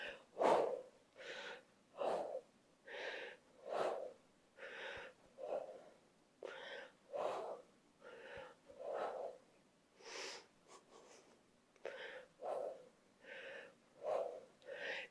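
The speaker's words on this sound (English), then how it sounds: "exhaling as you curl up" Rhythmic, forceful exhalations repeat about every second during a dumbbell crunch workout, each breath a loud, close puff of air with no talk over it.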